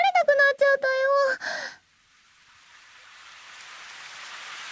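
Rain begins to fall in an audio drama, a soft hiss that rises gradually after someone speaks briefly at the start.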